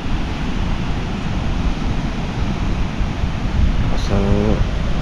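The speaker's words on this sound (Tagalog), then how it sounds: "Ang lakas pa ng tubig. Naririnig nyo?" Strong sea waves roll in with a steady, loud roar and wind buffeting the microphone, continuous throughout with a brief tonal sound near the end.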